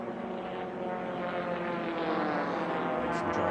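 A Formula 1 class racing plane drones past steadily during an air race, its propeller engine roaring loud and continuous with a rising, sustained tone over the whole stretch.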